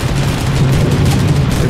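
Rapid gunfire in an aerial combat game: a loud, continuous stream of fast repeating shots with no break.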